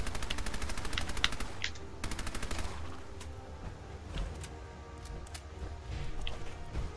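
Rapid automatic gunfire rattles in long bursts at a legendary feral ghoul in Fallout 4, followed by scattered single shots and quieter clatter, with no voices.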